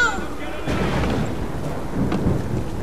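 Cannon fire in Assassin's Creed Unity during the French Revolution: deep booming rumbles rolling on and off, thunder-like and heavy, with game noise in the background.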